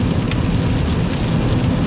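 Steady, dense rain pours down on outside surfaces, a constant loud hiss with low rumble underneath and no voices.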